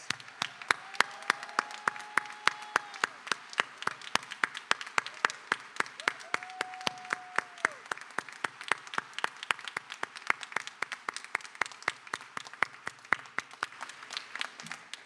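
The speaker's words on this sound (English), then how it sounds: "join me in congratulating you with a round of much deserved applause" A university convocation audience stands and applauds colleagues, with sustained, dense clapping from a large hall crowd throughout and brief voices rising above it.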